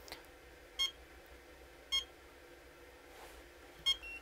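A Sinco 4D HIFU machine's interface gives three short electronic beeps, about a second apart, faint and clean over a quiet hum.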